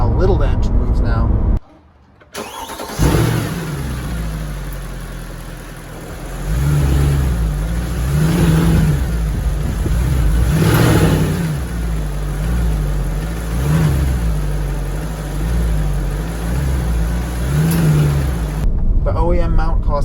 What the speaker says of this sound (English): show you guys what this looks like when I brake torque the car